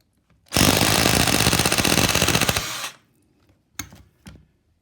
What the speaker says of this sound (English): I'm going to drill it out.